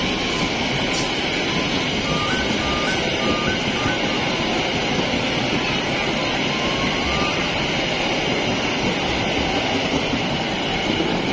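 A locomotive arriving at a station in West Java rumbles steadily and loudly close by, a continuous rolling roar with faint metallic squeals, no voices.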